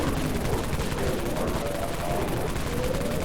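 Continuous gunfire with exploding rounds in the video game Dead Frontier, a dense, steady crackle of rapid shots and blasts with no breaks.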